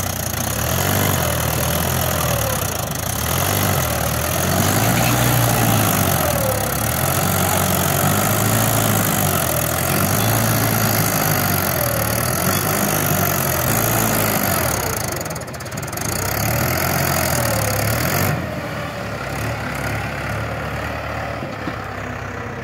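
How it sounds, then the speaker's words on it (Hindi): A Mahindra 575 XP Plus tractor engine runs steadily and loudly close by, its low, even diesel throb holding for about twenty seconds with a brief dip near the end and no talk over it. "तो काफ़ी अच्छा साउंड है ट्रैक्टर का"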